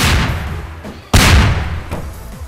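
Bomb blasts in the Garry's Mod game Melon Bomber, two loud booming bursts, the second sharper and stronger, with rumbling decay between them.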